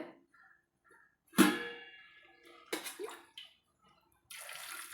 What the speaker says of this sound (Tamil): குக்கரில் சேர்த்து இதுக்கு தேவையான அளவு வந்து தண்ணி சேர்த்துக்கலாங்க